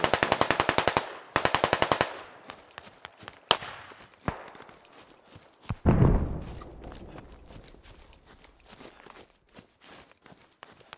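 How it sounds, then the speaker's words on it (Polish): Rapid bursts of automatic gunfire in the video game Squad open the clip, followed by scattered single shots, a heavy blast, and softer clicks and footsteps fading out. "Ktoś tu wali. I strzał."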